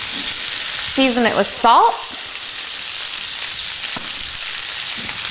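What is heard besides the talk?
asparagus sizzling in olive oil in a pan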